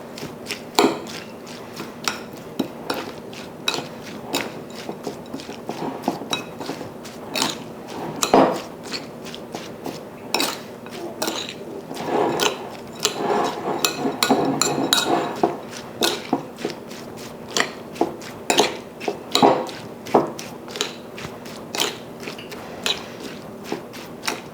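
Utensil clinking and scraping against a pot while sugar is stirred into turkey and dumplings, a steady run of close metallic taps and clinks throughout, with no talking.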